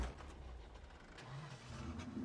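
A truck engine in Farming Simulator 15 cranks and catches, settling into a low, quiet idle hum that rises slightly toward the end.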